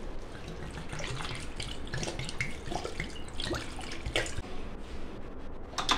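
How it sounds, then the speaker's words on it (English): Room temperature water poured into a pan of pork chops on medium heat, a steady splashing, running stream with bubbling and sizzle throughout, close and continuous. "So now, lazy me, we'll just put in some room temperature water."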